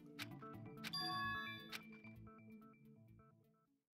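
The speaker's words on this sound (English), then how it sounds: "I think I'm getting a phone call." An electronic phone ringtone chimes in a Danganronpa 2 game, bright bell-like tones repeating over a soft musical bed, fairly quiet and fading out at the end.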